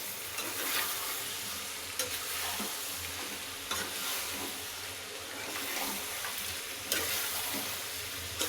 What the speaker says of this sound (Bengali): এটা একটু মিশিয়ে নেই মাংসর সঙ্গে